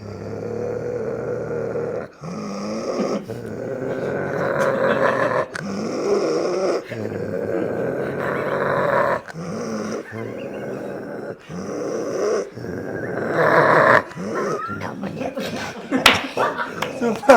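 A voice imitates dogs growling and snarling at an intruding dog from another area. The growls come in a series of loud, rough bursts separated by brief pauses.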